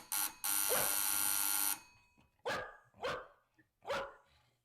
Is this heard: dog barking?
yes